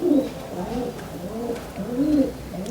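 Pet breeder pigeons coo in soft, repeated rolling calls, several overlapping phrases close by, with no talk over them.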